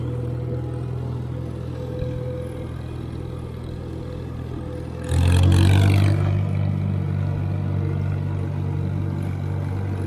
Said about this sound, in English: It's a smooth running engine, and you know, it's not terribly noisy.